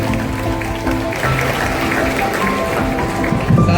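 An audience at a student award ceremony applauds with dense, steady clapping that fills the whole stretch, and a voice is faintly mixed in.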